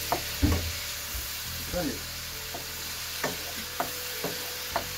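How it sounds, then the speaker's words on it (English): Teriyaki chicken sizzles in leftover sauce in a frying pan as it is stirred, giving a steady hiss with scattered scraping clicks, and a voice speaks briefly. "Stir it around."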